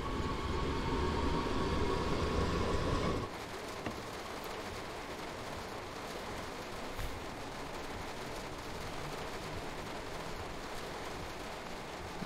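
A BR 422 S-Bahn electric train on the S1 line between Duisburg and Essen runs steadily, with a loud hum and rumble that drops abruptly to a quieter, even rolling noise on the rails, with no voices.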